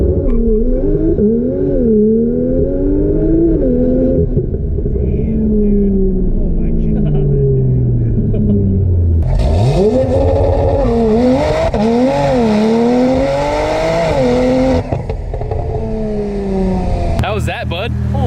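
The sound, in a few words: 1100HP Mitsubishi Evo IX race car launching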